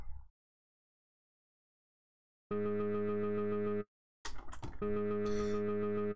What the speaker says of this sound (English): Let's go ahead and put a distortion filter on that.